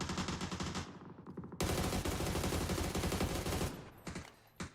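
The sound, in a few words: gunshots in a video game match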